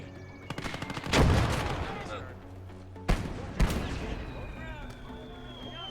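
Machine gun fire from an MG34 in the World War II video game Gates of Hell, heard as rapid bursts and sharp loud cracks among explosions and battle noise, with voices talking over the action.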